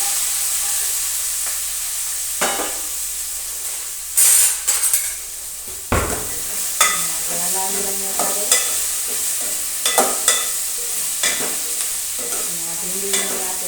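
Okra hits hot oil seasoned with mustard seeds, cumin, asafoetida and curry leaves, flaring into a loud hiss, then settles into a steady sizzle broken by the repeated clatter and scrape of stirring in the pan.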